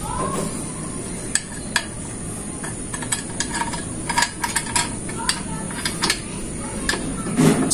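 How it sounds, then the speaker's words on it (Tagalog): Metal clinks and ratcheting as a bolt is refitted under a scooter during wheel removal work, with sporadic sharp taps over a steady background hiss. "ibalik na po natin yung bolt natin sa ilalim"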